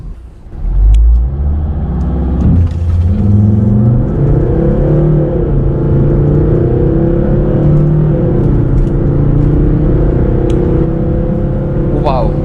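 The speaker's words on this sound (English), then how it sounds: "I gave it a brake boosted launch at 2000 rpm and as you guys just saw, absolutely no drama, no wheel spin" A Volvo S60 Cross Country launches from standstill after a brake-boosted start at 2000 rpm, its engine rising in a loud, steady pull through the gears from inside the cabin, with someone talking over it.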